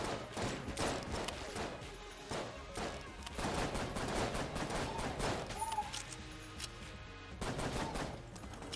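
Enemy gunfire in the video game Enter the Gungeon, with bursts of rapid shots and thuds layered over game music throughout, steady and close, with some talk mixed in.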